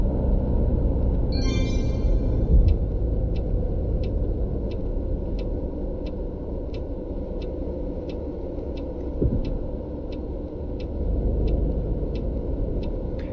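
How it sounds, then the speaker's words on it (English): Bus engine in Tourist Bus Simulator, a steady low rumble and drone running throughout at constant loudness, with a faint regular ticking like an indicator above it and no talk. "I like that engine sound as well."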